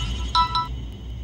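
A phone's electronic ringtone gives two short bright chirps close by, then stops, with a low hum running underneath.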